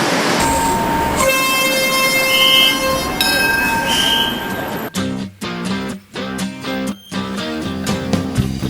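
A train rumbles and clatters past with a squealing, whistling tone, then rhythmic wheel thumps on the track as cars roll by.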